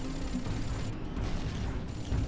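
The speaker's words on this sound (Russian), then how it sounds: "Пока этот танк ведет пулеметный огонь по нашим союзникам" Tank machine-gun fire in the Rogue Trooper video game, a continuous low rattling burst of shots with rumbling booms underneath, moderately loud and without talking.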